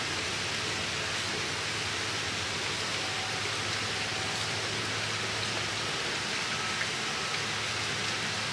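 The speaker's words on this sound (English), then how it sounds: "summertime rains can be kind of cool" Steady summer rain falling outdoors, an even wash of hiss and patter that holds constant and unbroken throughout, with no voices.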